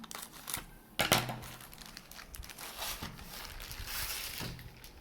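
Packaging of an IKEA Schottis pleated blind being cut open, giving faint crinkling and tearing of plastic with soft scattered rustles and one sharper crackle, close and quiet.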